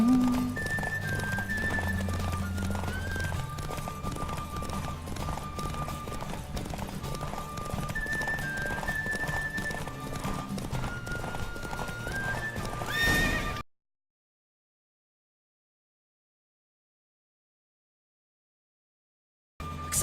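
Rapid hoofbeats of a galloping horse in a race in the video game The Witcher 3: Wild Hunt pound over music and a whinny, continuing for several seconds before cutting to silence.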